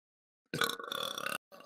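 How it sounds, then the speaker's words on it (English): A man lets out a long, rough burp after drinking beer, loud and close, followed by a shorter second burst. "Ugh, beer burping."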